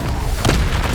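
An Incendio fire spell cast in the video game Hogwarts Legacy, a short, loud, booming whoosh with a sharp swell near the middle and no talking.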